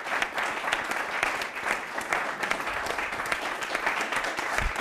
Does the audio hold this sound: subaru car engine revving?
no